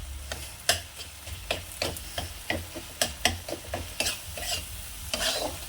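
Masala being stir-fried in a pan with a splash of water, a spatula scraping and knocking in quick irregular strokes over a soft sizzle, close up and with no voices.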